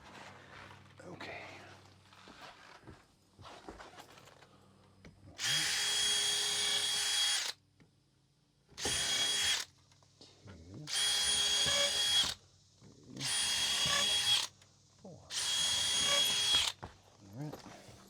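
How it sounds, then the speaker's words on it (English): A power drill bores pilot holes in lumber during a camper bus build, with five loud bursts of whirring drilling separated by short pauses, and quieter handling noise and brief voices before the first burst. "Pilot hole drill."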